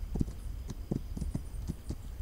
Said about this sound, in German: Hier sind auch 2 Pferde